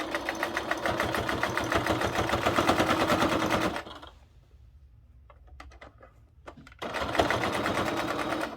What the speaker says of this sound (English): So I'm going to put a top stitch down both sides of the pretty seams.